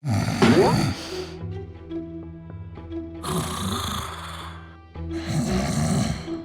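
A man snores loudly in his sleep with three long, rough, rumbling snores separated by quieter breathing pauses, close and heavy.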